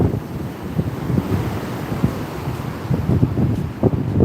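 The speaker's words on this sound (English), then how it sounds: "let's get these waves here. Look at that." Waves from Lake Michigan crash against a snowy Chicago shore in strong wind, a steady rushing roar with surges of surf breaking close by and wind buffeting the microphone throughout.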